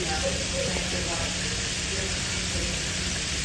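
Fish fries in a fryer at an outdoor cookout, a loud, steady broadband sizzle and crackle of hot oil running without pause, with faint voices nearby.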